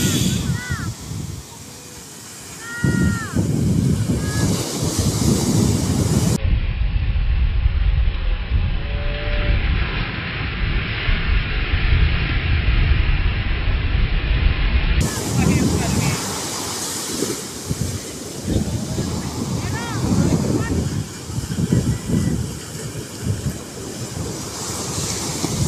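Large ocean waves surge and crash in a loud continuous roar with heavy wind buffeting, rising and falling across the stretch, with brief voices near the start.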